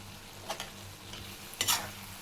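Dates stirred into a chili spice mix in a pan while making Kerala lemon pickle, a couple of quick scraping, clinking stirs over a faint sizzle, close and fairly quiet.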